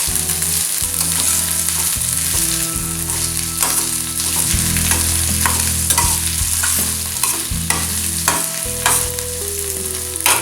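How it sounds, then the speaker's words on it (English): Onions frying in a pan with cinnamon and aromatic spices for spicy chicken or prawns, a loud continuous sizzle with repeated scraping stirs throughout, close and with no talking. "Now I start stirring it. I cook it till these onions are soft."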